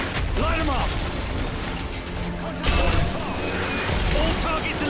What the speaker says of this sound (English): If it moves, put a mortar shell on it. Keep firing a mortar!